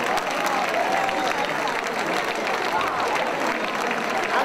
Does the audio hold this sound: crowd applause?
yes